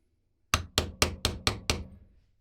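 Six evenly spaced hard metallic taps drive a plastic bushing into a differential support on a Genius GTC8E 2025 build, struck through an 11 mm socket; close, crisp and ringing briefly, with no talk.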